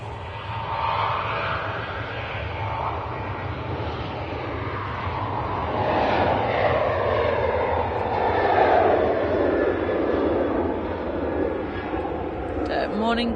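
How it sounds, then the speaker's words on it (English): A Ryanair airliner departs Manchester Airport for Madrid, its engine rumble building and holding as a broad sustained roar, with faint talk beneath it. "That Ryanair was off to, or is off to, Madrid"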